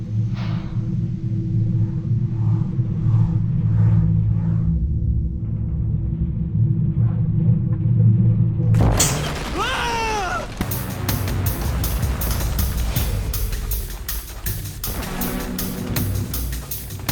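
A pressure-plate explosion in Lego Fortnite bursts out loudly after several seconds of steady rumbling game ambience, with a sharp broadband blast followed by crackling debris and lingering noise.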